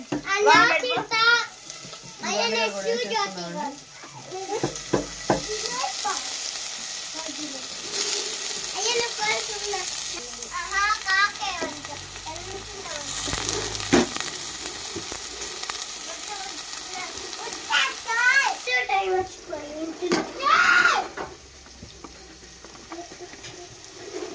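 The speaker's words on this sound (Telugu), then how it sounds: "ఇంకా ఉల్లిపాయలు అయితే వేగుతూ ఉన్నాయి, ఇంకా దొండకాయలు కూడా వేసేసుకున్నాము" Onions and ivy gourd fry in a pan with a steady, close sizzle that continues throughout, partly under a child's and an adult's voices talking.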